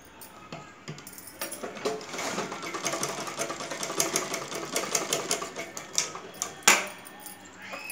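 A sewing machine stitches together two one-inch strips of cloth for blouse neck piping, running as a steady close mechanical chatter of rapid needle clicks with a sharp knock near the end, no voices.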